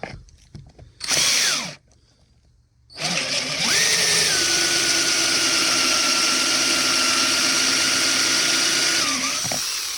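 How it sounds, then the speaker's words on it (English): A power drill starts with a short burst, pauses, then whirs steadily at high speed as the bit bores a hole for a diesel heater fuel tank, before winding down. "I didn't go all the way through with the drill bit"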